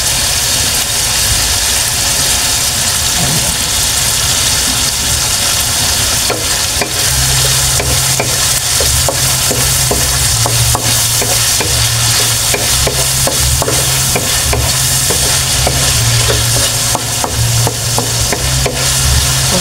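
Liver stir-fried in a pan with oyster sauce gives a loud, continuous sizzle, with spatula stirs scraping through it and a steady low hum underneath.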